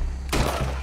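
A single loud gunshot in Red Dead Redemption 2, a sudden heavy blast with a booming tail after a moment of low background noise.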